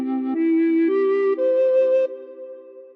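Recorder playing an opening phrase of The Star Spangled Banner: five clean notes stepping upward, each held briefly, ending on a longer note that fades out, with no voices.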